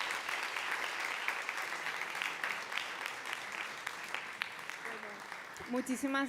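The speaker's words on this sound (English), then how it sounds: "A big round of applause for Bernat." Audience applause at a film press conference for the editor of She Walks in Darkness, a steady dense wash of clapping filling the room, with a voice starting to speak near the end.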